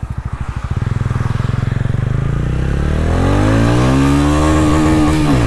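A TVS Ronin 225 motorcycle pulls away close by, its single-cylinder thump quickening into a rising, loud engine roar as it accelerates through the revs.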